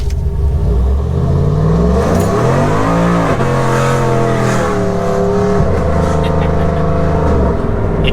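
A 2014 Chevrolet Silverado pickup fitted with traction bars pulls hard away from a stop sign, engine roaring loud and close as revs climb, drop at a shift and climb again over eight seconds, with no speech.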